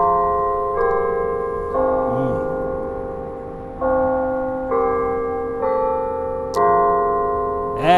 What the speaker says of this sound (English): I'm going to let you hear those church bells.